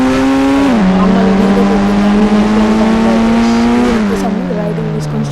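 A golden Rolls-Royce in a video game drives with a loud, steady engine drone that drops in pitch at two gear-like shifts, a voice talking briefly over it.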